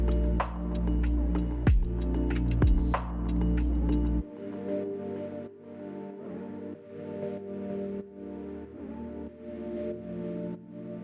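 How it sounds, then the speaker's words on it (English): An Epson Perfection V39II scanner previews and scans a document, with a loud low motor drone and a few sharp sweeps at first, then a quieter, steady whirring carriage hum broken by faint clicks. "first it previews the document inside scanner and then scan the document"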